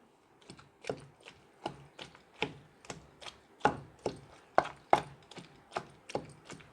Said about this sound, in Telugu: ఉల్లిపాయలు కూడా వేసుకొని బాగా దంచుకోవాలి.